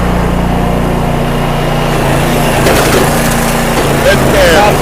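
Musclewood log splitter working through knotty hard maple, a loud steady engine drone with cracking and splintering wood building toward the end, close by.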